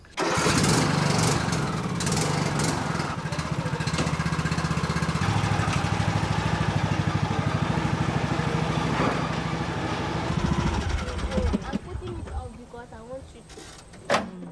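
A John Deere tractor engine runs steadily and loudly close by for most of the stretch, a low continuous drone with rhythmic pulsing, easing off and turning rougher near the end amid some mechanical clatter.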